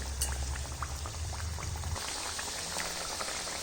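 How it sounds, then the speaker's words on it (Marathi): Mung dal breakfast snack frying in oil over medium heat, a steady soft bubbling sizzle that brightens halfway through, with faint clinks and no talking. "मध्यम गॅसवरती छान असं लालसर होईपर्यंत आपण तळून घेणार आहोत"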